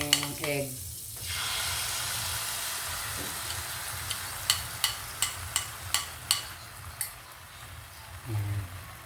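An egg fries in a pan with a steady soft sizzle, accompanied by a series of regular light taps or clicks partway through and short bits of talk at the start and end.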